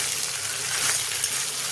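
Chicken pieces sizzling in a hot pan while being stirred for chicken chilli, a steady loud hiss of frying with faint scraping, and no voices.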